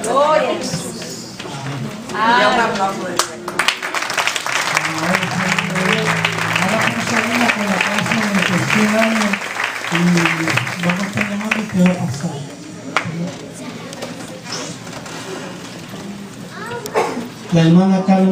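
Applause from a church congregation at a graduation ceremony, sustained clapping that swells and continues for many seconds, with a voice speaking over it at times.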